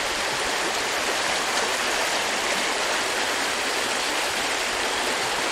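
A river swollen by recent heavy rain rushes steadily, a loud, unbroken roar of flowing water heard up close on a riverside walk, with no voices.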